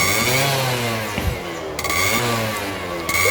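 A Yamaha F1ZR motorcycle engine runs close by while its exhaust is checked, a steady buzzing idle with slight rises and dips in pitch and no talking.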